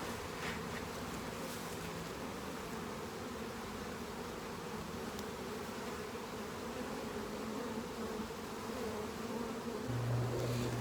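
A dense, steady hum of honeybees buzzing close around an open queenless hive during beekeeping work, continuous and even throughout with no voices.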